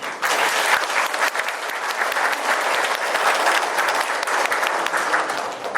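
Residents at a redevelopment briefing in a district office give a loud, steady round of applause that continues evenly throughout, with no talking over it.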